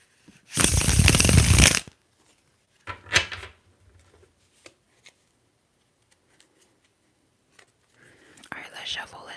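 Tarot cards are shuffled in a loud, close riffle lasting about a second, followed by soft scattered taps and handling noises, with a quieter shuffle of the deck near the end.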